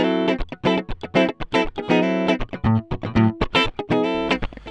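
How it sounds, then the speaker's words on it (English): Bass and electric guitar played direct through a Red Eye preamp, with short, punchy plucked notes and chords in a quick choppy rhythm, distorted and bright, with a few lower bass notes mixed in and no talk. "Next up, let's listen to some bass and electric guitar into the preamp."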